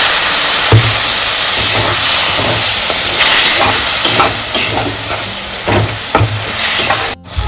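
Water from rinsing the spice bowl hits hot frying spice paste with Kashmiri chilli for Bengali mete chorchori, a loud continuous steamy hiss and sizzle with occasional stirring scrapes, lasting several seconds.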